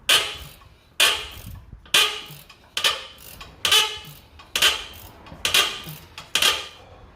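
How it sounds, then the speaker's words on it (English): Ratchet wrench loosening a nut on a shock absorber of a Toyota FJ Cruiser fitted with Jeep Wrangler Bilstein shocks, giving eight sharp, evenly spaced clicking bursts about a second apart, close and clear with no talk. "I'm gonna go get my ratchet wrench."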